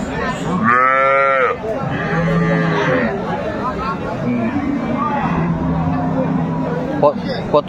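A Sahiwal cow and calf at the Aftabganj cattle market give two drawn-out moos close by, followed by lower lowing under a steady hubbub of market voices and nearby talk.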